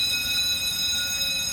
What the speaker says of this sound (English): we press here and the bell is ringing